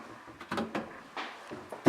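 A bathroom door in a road-trip vehicle or lodging opens with a series of close knocks, clicks and sliding rattles, several sharp bumps spread unevenly before a louder final thud.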